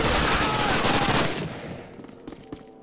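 Call of Duty (2003) video game gunfire rattles loudly in sustained bursts at close range, then tapers into scattered distant shots and fading echoes.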